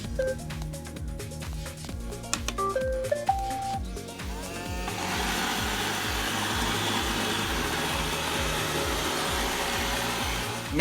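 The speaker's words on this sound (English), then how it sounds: "And here is what the Roomba sounds like." A Roomba 670/675 robot vacuum plays a short run of electronic start-up beeps, then its motor and brushes hum in a steady, moderate whir that carries on evenly for several seconds, with no voices.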